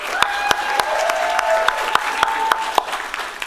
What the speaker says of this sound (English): Warm round of applause, if you will.